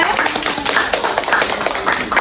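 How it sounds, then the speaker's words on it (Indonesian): Classroom of children clapping for a student, a short burst of quick, close, uneven handclaps from a small group. "Beri tepuk tangan untuk Maria."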